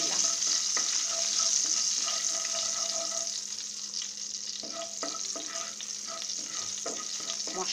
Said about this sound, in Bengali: গরম তেলে একটু পাঁচফোড়ন, খুব সামান্য একটু পাঁচফোড়ন ফোড়নের জন্য এখানে